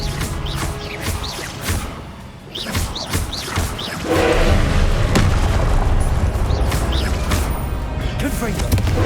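The Confringo fire spell bursting in Hogwarts Legacy combat, loud booming blasts amid crashes and battle noise that swell into a sustained roar, with voices heard over the fight.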